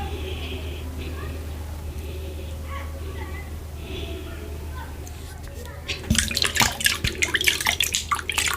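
Hands washed under running water at a meal of oatmeal fufu with ogbono soup, dry catfish and chicken: a close, splashy burst of water and dripping after a murmur of voices and room sounds.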